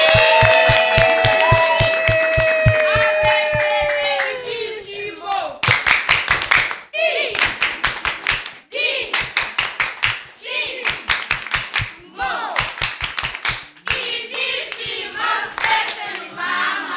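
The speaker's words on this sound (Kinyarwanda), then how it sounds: "reka nsabe abana mu ntiza amashyi twakira abashyitsi badusuye" Children clap in rhythmic bursts to welcome visiting guests, close and lively, with someone speaking over the first seconds before the clapping takes over in repeated rounds.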